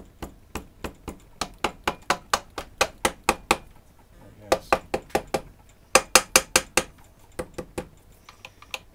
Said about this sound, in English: Get the trusty rubber mallet.